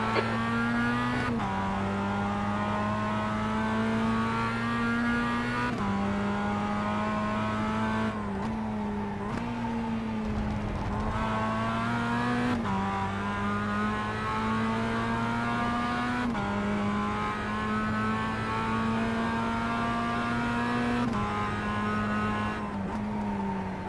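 A Mazda race car in the iRacing sim holds a loud, sustained engine note that climbs and drops through gear shifts as it laps Summit Point's Jefferson Circuit, with no talking.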